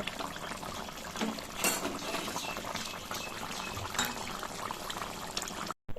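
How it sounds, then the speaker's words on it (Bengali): A fried cumin and dried chili tempering is poured into a bubbling snakehead fish curry, giving a soft, continuous hiss and bubbling of hot liquid that cuts off abruptly at the end. "মাছের ঝোলের ভিতরে ওই ফোড়নটা দিয়ে দিল"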